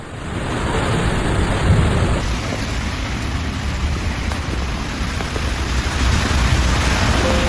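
Heavy rain pours in a dense, steady roar during a thunderstorm, loud and continuous throughout with no voices over it.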